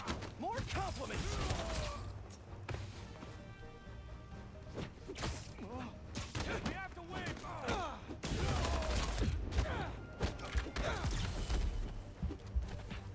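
Repeated gunshots and rapid bursts of fire in Spider-Man 2 on PS5, mixed with swooshes and clanking game effects. The dense, steady combat racket runs for the whole stretch and swells louder in the second half.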